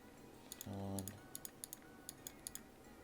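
Computer mouse and keyboard clicks while trying to buy Supreme items online during a limited streetwear drop: a string of about a dozen sharp, close clicks spaced unevenly across the moment, with a brief low murmur near the start.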